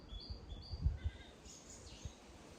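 Soft bird chirps and short tweets sound faintly outdoors, a few scattered calls over quiet ambient noise with some low thumps nearby.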